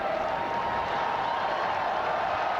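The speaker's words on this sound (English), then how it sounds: "the cheer of the crowd" A large crowd cheers and applauds as the newly elected pope, the new pontiff of the Catholic Church, appears on a balcony. The roar is dense, steady and loud throughout, with no break.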